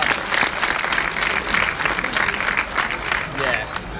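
Loud, continuous applause from a large crowd at the Melbourne Oceania International Championships Pokémon VGC Masters final, dense steady clapping throughout with a commentator's voice running over it.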